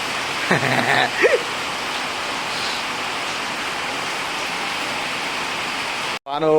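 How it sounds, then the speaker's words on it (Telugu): Heavy rain falling outside, a dense steady roar of hiss throughout, with brief voices near the start and a sudden cut at the end. "వాన ఎంత కొడుతుంది"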